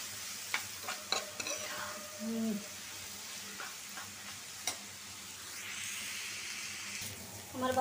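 Snake gourd frying in a pan, a low steady sizzle with scattered clinks and scrapes of stirring, while a voice talks intermittently over the cooking.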